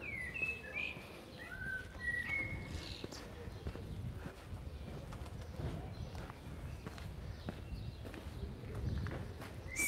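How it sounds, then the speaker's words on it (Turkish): Birds chirp and whistle in short phrases over a busy outdoor background with shuffling and movement, in Montmartre, Paris. "Kuş sesi çok güzel değil mi"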